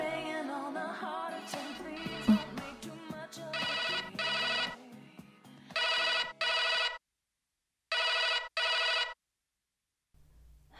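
A telephone rings in repeated electronic bursts with silent gaps between, following a stretch of music; clear and fairly close.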